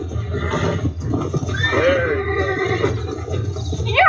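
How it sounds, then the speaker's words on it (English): A horse in the Red Dead Redemption video game whinnies loudly and shrilly while being broken, a rising-and-falling neigh over game background noise, with faint voices nearby. "All right, guys, you just broke this horse."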